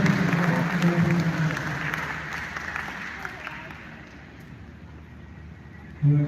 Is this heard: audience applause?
yes